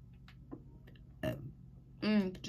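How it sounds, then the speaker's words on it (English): A short burp that sits between bits of casual speech in a Sky Wars gaming session, close and fairly loud, with a voiced, rising tail. "Just burp."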